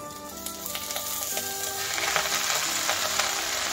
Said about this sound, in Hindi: गरम घी में थोड़ा सा डाल देंगे डाल के थोड़ा हल्का स्टर कर लेंगे जब तक ये हल्का फ्राई हो जाए